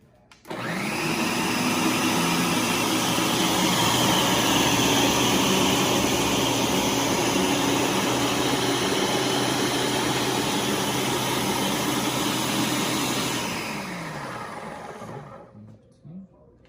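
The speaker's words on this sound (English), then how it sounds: "This is the Ninja, the world's most powerful food processor. We're going to test out some carrots here." A Ninja food processor runs loud and steady, chopping carrots in a continuous motor whir for about thirteen seconds before winding down and stopping.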